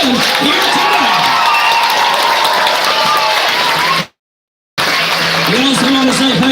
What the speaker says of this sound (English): give them all a great big round of applause and welcome them here tonight